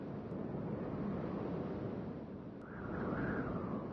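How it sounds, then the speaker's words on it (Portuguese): Spring wind sweeps across a wild beach at Praia do Cassino, a steady low rushing roar with faint surf-like texture and a brief rising whistle near the end. "Os ventos da primavera varrem a praia e levam a areia seca em direção ao continente."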